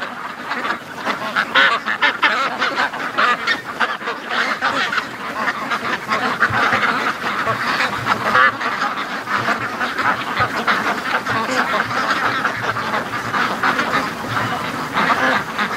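Many free-range ducklings in a barn quack and peep nonstop, a busy overlapping chorus that stays loud and close throughout, with no one speaking.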